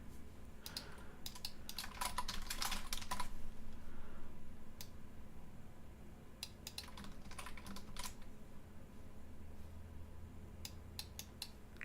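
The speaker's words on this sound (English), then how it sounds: "let me just type in new game here" Fingers tapping on a computer keyboard, quick bursts of clicky keystrokes with a dense flurry early on, then sparser scattered taps, close and fairly quiet with no talking.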